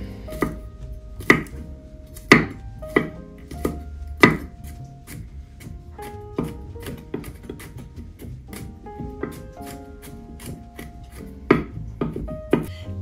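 A knife chops garlic cloves on a cutting board in a string of sharp, close knocks at an uneven pace, with scattered softer taps in between and no voices.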